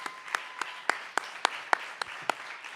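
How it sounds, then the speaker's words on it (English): Sparse applause at a community media center event, heard as roughly nine separate, sharp, evenly spaced hand claps, close and clear against a quiet room rather than a full crowd. "Can we all please give those folks a big round of applause?"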